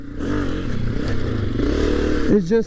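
A 2022 Honda CRF250F dirt bike engine runs and revs close by, a rough droning rumble that climbs near the end, where a brief voice cuts in.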